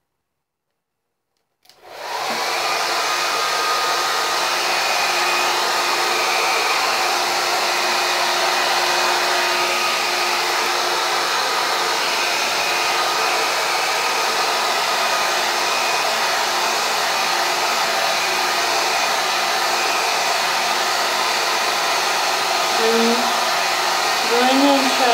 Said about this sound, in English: And then you just see this hair dryer.